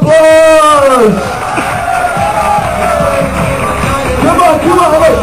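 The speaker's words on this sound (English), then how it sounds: "let's give him a big round of applause!" A lively crowd cheers and whoops for a contestant at a farewell party, with loud yells and shouts over a busy crowd bed and a voice calling out near the start.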